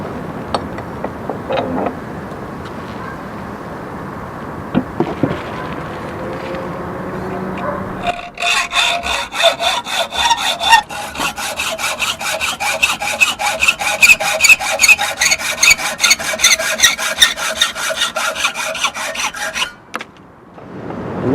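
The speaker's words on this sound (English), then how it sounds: "Next, we'll just cut off any excess." A hand saw cuts excess material off a knife blank, first with a few scattered knocks and scrapes, then a long run of loud, rapid rhythmic sawing strokes close by that stops near the end.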